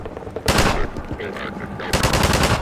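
Rapid automatic gunfire in the video game Half-Life 2, loud sustained bursts with a brief pause between two volleys, as a voice calls out over the shooting.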